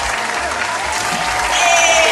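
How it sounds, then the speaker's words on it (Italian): Audience applause greets a guest arriving on an Italian game-show-style set, a dense, steady clatter of clapping that swells slightly louder toward the end, with no talk over it. "Facciamo un caloroso applauso per Marta Dardato!"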